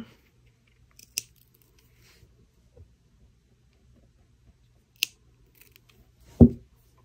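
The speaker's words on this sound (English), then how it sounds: "I'm gonna trim off just a little bit." Scissors trimming material on a handmade Birds of a Feather necklace, a few isolated crisp snips spaced seconds apart in an otherwise quiet room, followed by a soft thump near the end.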